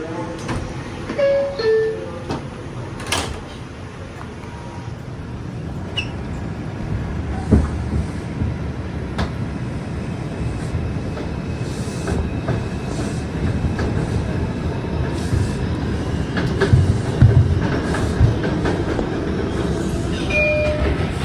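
An R142 subway train on the Bronx-bound 4 local under Lexington Avenue rumbles loudly and continuously, with wheel clatter, rattles and brief squeals building toward the end.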